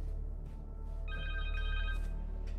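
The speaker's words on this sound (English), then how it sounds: "Phone!" A cell phone rings in the Spider-Man 2 video game, a steady electronic trill that starts partway through and carries on over a low background hum.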